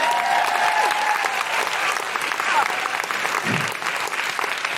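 A comedy show audience applauding loudly and continuously, dense close clapping with some crowd cheering and a voice or two mixed in.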